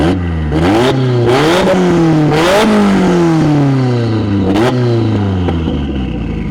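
A 550 hp turbocharged 3S-GTE engine in a Toyota RAV4 with a custom straight turbo-back exhaust revs hard several times, its pitch rising and falling, close and aggressive, with sharp bursts between revs.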